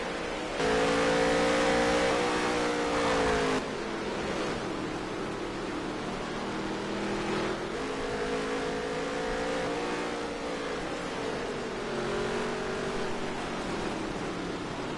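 Race cars in a PS4 racing game accelerate with loud, whining engine tones that rise and fall through gear changes, holding near and steady throughout.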